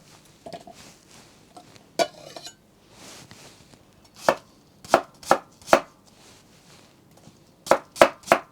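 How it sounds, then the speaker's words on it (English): Two medium onions roughly chopped with a knife on a board, sharp, close knocks arriving in irregular bursts, some single, some in quick runs of three, with quiet pauses between. "And do the same with your 2 medium onions. Roughly chop them."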